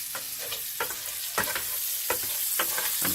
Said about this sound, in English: I'm just going to mix all that around